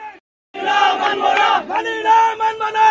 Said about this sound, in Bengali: মিছিলে কর্নেল অবসরপ্রাপ্ত আনোয়ারুল আজিমের নেতাকর্মী ও ডক্টর রশিদ আহমেদ হুসাইনের নেতাকর্মীরা অবৈধ কমিটি মানি না মানব না ইত্যাদি নানা স্লোগান দিতে থাকেন